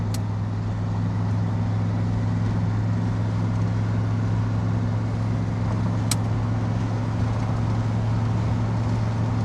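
A 1991 Chevrolet Suburban 1500 4x4 with a 6.2 diesel pulls hard in third gear at full throttle, its steady low engine drone filling the cab with constant road and wind noise, no talking.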